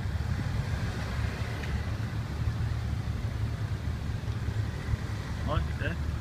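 Traffic rumbles steadily past at a roadside, a continuous low drone of cars with people talking over it.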